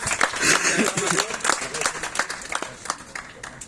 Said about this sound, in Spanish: un aplauso a Marieta